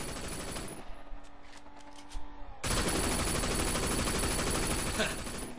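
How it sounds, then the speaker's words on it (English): Gunfire from shooting at police in the video game Sleeping Dogs: a quieter passage with faint shots, then a sudden loud burst of sustained rapid automatic fire with engine noise, and voices heard over it. "Shooting the police."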